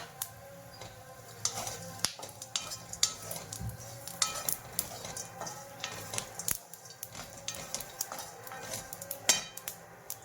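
Whole spices dry-roasting in a pan for Maharashtrian masala, stirred steadily with a spatula, giving repeated metallic scrapes, clinks and rattles at close range with no talking.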